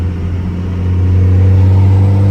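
A lifted Cummins diesel truck engine pulling hard onto a highway, a loud, deep, steady drone heard from inside the cab, building slightly in strength toward the end.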